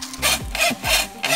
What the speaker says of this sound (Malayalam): ആക്സോ ബ്ലേഡ് വെച്ചാണ് നമ്മൾ കട്ട് ചെയ്യുന്നത്.